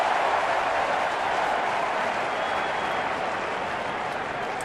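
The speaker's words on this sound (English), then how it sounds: "This crowd is a live wire crowd" A packed baseball crowd at Wrigley Field roars and applauds during a Cubs–Cardinals 2015 NLDS playoff game, a dense, sustained wash of cheering that stays loud and even throughout.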